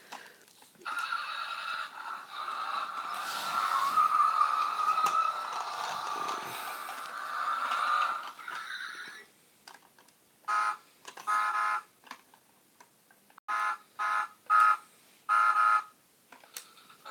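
Road Rippers toy car playing its built-in electronic sounds: a long, tinny, horse-like whinny, then a string of short, sharp beeping bursts with pauses between them, near and fairly loud.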